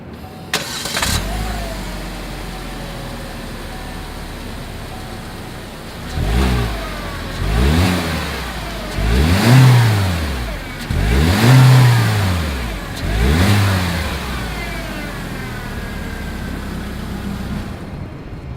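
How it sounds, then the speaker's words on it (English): A 2020 Chevrolet Spark starts up with a sharp crank, then settles to idle before its small engine is revved through the exhaust five times in a row, each rise and fall loud and close. "As always, here is that exhaust clip."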